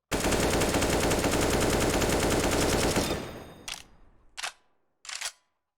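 Automatic AK-47 fire in a video game rattles out as a rapid, sustained burst for about three seconds, loud and close, then three short separate bursts follow, each dying away into silence.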